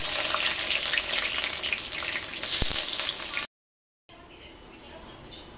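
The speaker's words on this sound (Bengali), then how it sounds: "ওই তেলের মধ্যে আমি বেগুনগুলোকে ভেজে তুলে নেব।" Eggplant pieces fry in hot mustard oil in a pan, a bright, steady sizzle close by that cuts out abruptly partway, then returns as a fainter hiss.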